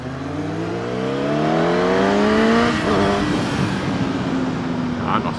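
Motorcycles accelerate hard in an illegal street race, engines climbing through several rising pitch sweeps, then shifting and settling into a rough steady roar with wind noise, close and loud.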